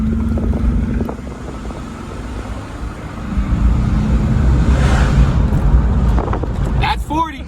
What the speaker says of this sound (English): we're gonna do a quick 0 to 60 in this thing.